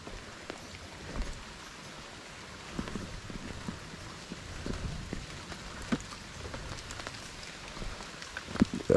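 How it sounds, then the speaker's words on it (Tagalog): Steady patter of rain falling on a surface along a mountain road on Mount Balagbag, Rizal, Philippines, with irregular drops and occasional louder taps throughout, no voices. "Inubutan na tayo ng ulan."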